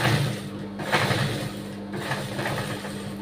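A sewing machine stitches the back pot neck of a blouse, a quiet, steady motor hum with soft rhythmic needle pulses running close and unhurried.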